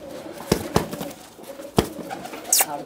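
Racing pigeons coo in a loft, low soft repeated calls close by, with a few sharp taps and a brief flutter near the end.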